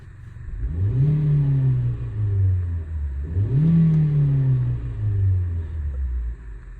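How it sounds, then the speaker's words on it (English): A 2009 Kia Cee'd 1.4 engine with 160,000 miles revs up twice, rising then settling back to a smooth, steady idle rumble with no rattles, close and loud with no talking. "So you can just hear the engine now. I'll give it a quick rev."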